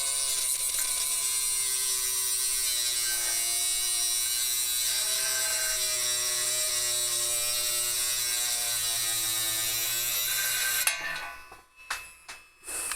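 A Dremel rotary tool cuts through metal pedal parts with a loud, steady high-pitched whine for about eleven seconds, then cuts out abruptly into a few short scrapes and knocks.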